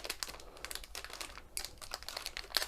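Crinkly plastic rustling from a resealable bag holding a diamond painting pen, with soft crackles and snaps coming in quick, irregular bursts close by.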